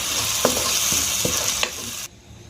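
Ginger, green chili and spice paste is stirred in hot oil for a vegetarian chola dal, with a spoon scraping in several distinct strokes over a steady sizzle that suddenly drops away.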